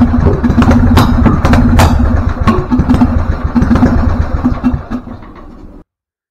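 A Husqvarna riding mower engine runs loud and close with a rough, uneven idle, its steady mechanical chug broken by sharp popping backfires before it cuts out abruptly near the end.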